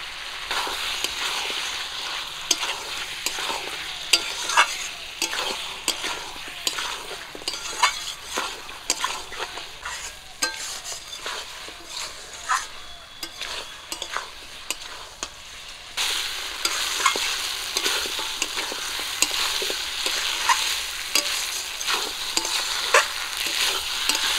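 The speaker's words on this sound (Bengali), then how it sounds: "মশলার সঙ্গে মাংসগুলো খুব ভালো করে ভেজে নিয়েছি" Mutton fries with onion paste, dried chili and cumin paste in a village kitchen pot, a constant sizzle under frequent scraping stirs and metal clinks that thin out briefly before the hiss swells again; no voices.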